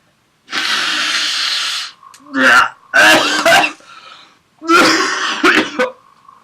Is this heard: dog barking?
no